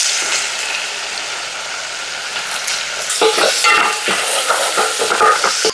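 Ginger garlic paste and curry leaves crackle and sizzle loudly in hot oil, a dense frying hiss that swells into sharper popping spatter in the second half.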